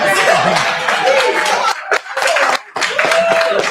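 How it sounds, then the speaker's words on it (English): An audience at a student union election results event claps for the full-time officers, a dense burst of applause with brief pauses and some murmuring and laughter mixed in. "please join me once again to clap for myself and the current full-time officers"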